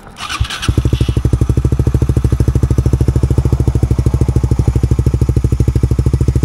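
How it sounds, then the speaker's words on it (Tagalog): A Suzuki Raider 150 Fi fuel-injected motorcycle with its stock muffler fires up and settles straight into a loud, close, rapid and evenly pulsing exhaust idle that holds steady throughout. "sound check ng muffler na to na nakakalkal na stock muffler kung tutusin"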